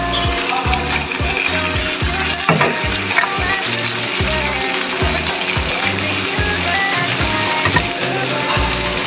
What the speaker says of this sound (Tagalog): gisa na yung ating papaya